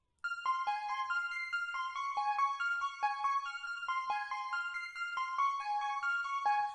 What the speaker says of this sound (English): So more of a high-pitched type of plucky bell sound.